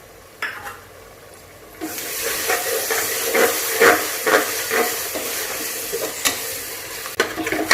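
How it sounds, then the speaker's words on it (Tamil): Spiced rice mixture being stirred in a pot for plain biryani, a steady scraping, sizzling swish of several strokes with faint steam hiss underneath, close by and with no voices. "இதெல்லாம் சேர்த்து நல்லா மிக்ஸ் பண்ணிக்கலாம்"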